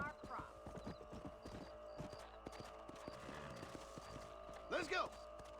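A horse gallops in Red Dead Redemption on Nintendo Switch, its hooves drumming quickly at first and then more loosely, with a whinny near the end and game sounds underneath.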